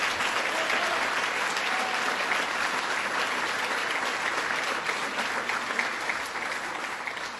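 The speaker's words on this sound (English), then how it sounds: "Let's give Bill Farber a big round of applause" An audience at an awards ceremony applauds Bill Farber, a dense, sustained round of clapping that stays loud throughout and tapers slightly at the end.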